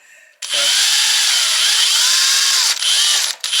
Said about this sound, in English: We're going to just drill holes.